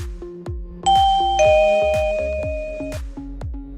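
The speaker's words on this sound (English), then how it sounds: "The TCP Smart Doorbell comes complete with a plug-in indoor chime," A TCP Smart Doorbell plug-in indoor chime rings out a clear, close multi-note melodic tune, each tone ringing and sustaining, over a steady repeating rhythmic beat.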